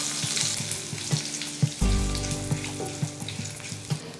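Mustard seeds, cumin and dry red chillies frying in hot oil, a steady close sizzle with sharp popping crackles and a few stirring knocks, growing louder midway as more goes into the pan.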